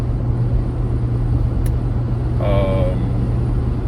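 A vehicle engine cruising on a highway in 6th or 7th gear during an overland road trip through Georgia, giving a steady, loud low drone throughout, with a brief faint tone partway through and no talking.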